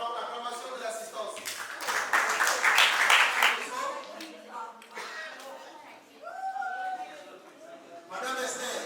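An audience at a World PVH Day ceremony bursts into a short round of applause, mixed with voices talking over and after the clapping.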